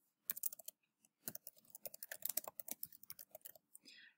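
Fingers type a first and last name on a computer keyboard, a quiet run of quick, uneven key clicks with a brief pause near the start, nearby and without talk.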